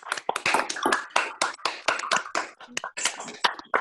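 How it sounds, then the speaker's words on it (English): Sparse clapping from a small group of people on a daily show, individual claps distinct and irregular, fairly close and moderately loud, with no talk. "Let's have a round of applause from everyone for that answer."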